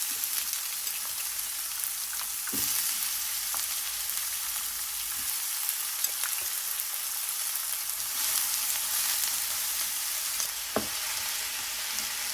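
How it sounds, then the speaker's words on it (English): Seven large sliced onions fry in about a cup of hot oil, a steady dense sizzle and crackle that carries on evenly throughout, close and alone without any talk. "Now let's introduce 7 large sliced onions into the sizzling oil."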